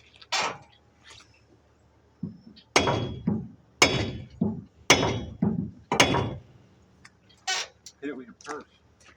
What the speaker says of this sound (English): we're going to smack it with a hammer a couple times